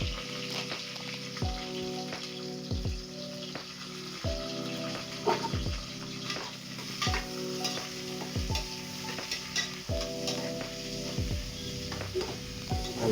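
Bay leaf, cinnamon and kalpasi fry in oil in a pot for mutton biryani, a continuous sizzle broken by rhythmic metal stirring scrapes and clanks that repeat every couple of seconds.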